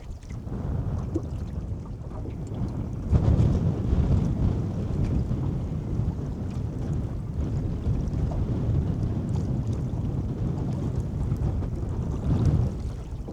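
Strong wind roars steadily across a boat out on the Mississippi River, a dense, buffeting rush with gusts swelling around the middle and near the end, with no voices.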